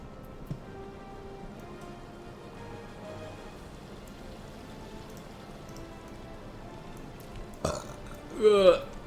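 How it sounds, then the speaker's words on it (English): A person lets out a loud, drawn-out burp near the end, preceded by a faint, quiet background with a few small bumps. "Burping."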